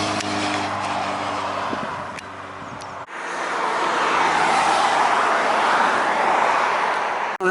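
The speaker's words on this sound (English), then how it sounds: "I'm coming from this quiet lane onto this busy, busy with holiday traffic" Holiday traffic on a busy road in the Vale of Ffestiniog, Wales, makes a steady broad roar of passing vehicles that swells after a brief engine tone at the start.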